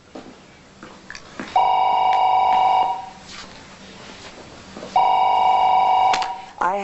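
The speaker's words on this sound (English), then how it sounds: "I have to take this phone call in private." An electronic telephone bell rings in two long bursts separated by a pause, clear and fairly close in a quiet interior room, with faint voices around it.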